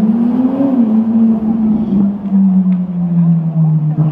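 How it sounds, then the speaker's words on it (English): A Ferrari sports car on a Tokyo street, its deep engine droning loudly and steadily at low speed with a slight pitch change, while people talk. "Wow, look at that Ferrari."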